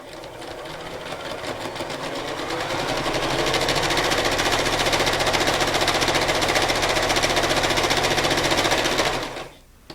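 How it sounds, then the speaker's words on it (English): A sewing machine stitches orange thread over black fabric, marking tic-tac-toe board lines in one rapid, even, continuous run lasting about nine seconds before stopping abruptly. "I'm going to sew directly over those lines"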